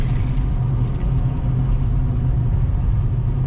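A car on the road from Sunauli to Kathmandu in Nepal gives a steady, loud, low road and engine rumble that holds even throughout, with no voices.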